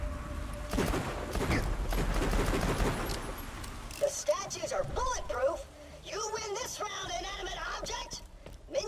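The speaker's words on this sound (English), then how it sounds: "Let me shoot some statues." Rapid bursts of automatic gunfire in Borderlands 2 as statues are shot, loud and continuous at first, then giving way to sharper single impacts and ricochets later on.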